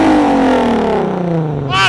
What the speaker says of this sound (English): The perfect amount of street car exhaust.